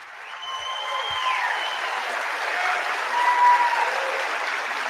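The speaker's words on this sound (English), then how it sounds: "Listen to all those stupid people clapping." An audience claps steadily, a dense wash of applause at moderate distance that builds slightly and holds throughout.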